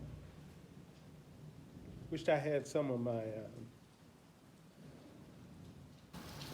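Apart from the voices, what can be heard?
rain and thunder on a rainy day in the Gambia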